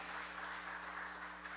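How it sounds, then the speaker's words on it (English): An audience at a housing and homelessness committee meeting applauds in a brief, steady wash of clapping, moderately distant in a hall with a faint hum. "I'm going to ask once again that we not applaud or boo."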